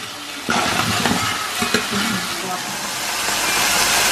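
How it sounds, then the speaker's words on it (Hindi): Onions and paneer roasting in a kadai for kadai paneer make a loud, continuous sizzling hiss with a few clacking stirs early on, no clear talk over it. "अब इसको हम थोड़ा सा रोस्ट करते हैं, इधर हमारे प्याज भुन रहे हैं"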